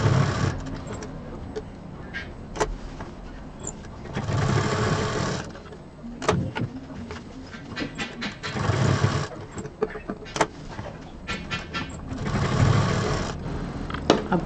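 Sewing machine running in several bursts as it stitches a bag's belt onto the piping, a steady mechanical whir that stops and restarts with short pauses between runs.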